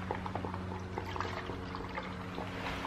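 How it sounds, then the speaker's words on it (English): Water poured into a container at home, a steady close trickle and splash running the whole time over a low constant hum. "let me fill this water up"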